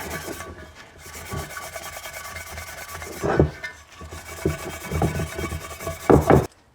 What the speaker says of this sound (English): We're going to use some of this green pad. I think this is equivalent to about a 400 grit